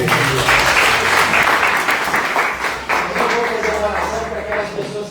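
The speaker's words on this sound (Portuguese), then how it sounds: "As palmas do Senhor." Church congregation claps during worship, a dense, continuous round of applause close by, with a voice speaking briefly beneath the clapping.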